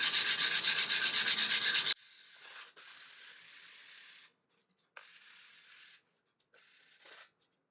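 Sandpaper rubs across a burnt, charred wooden guitar body in a few separate strokes: a loud rhythmic scrubbing burst first, then quieter, softer passes with short pauses between them.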